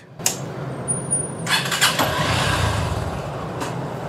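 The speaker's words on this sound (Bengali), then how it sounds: "তাহলে মোটরসাইকেল স্টার্ট দিই" A motorcycle engine is started: a brief crank, then the motor catches and settles into a low steady rumble close by, with a few clicks and a thin whine around it.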